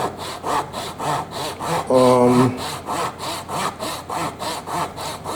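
A Zona 24 TPI Japanese pull saw cutting through a large piece of hardwood: steady, evenly spaced rasping strokes, close and clear, with one brief squeaky, tonal stroke partway through.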